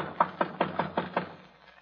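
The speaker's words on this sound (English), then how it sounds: "I go over to the shed and knock" Six evenly spaced knocks on a wooden shed door, firm and close, with a steady rhythm and brief ringing after each rap.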